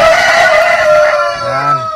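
A Jersey Giant rooster lets out one loud, close, drawn-out crow that trails off into a lower, fading tail.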